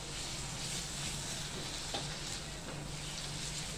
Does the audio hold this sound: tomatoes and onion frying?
yes